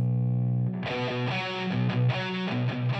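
Heavily distorted electric guitar chords, double tracked with the same mic and cabinet, thick and wide, chug in a steady rhythm after a sustained opening chord.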